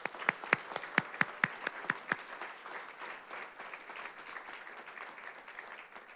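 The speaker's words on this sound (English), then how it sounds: "Can we get an applause for all these recipients and their achievements?" At a city council meeting honoring award recipients, a handful of sharp, distinct claps quickly grows into fuller, softer audience applause that fills the room.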